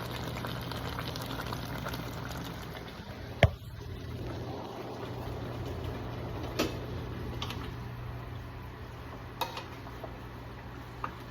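Pot of pork with turmeric simmering on a stove, a quiet steady bubbling broken by a few faint clicks and knocks, low and close.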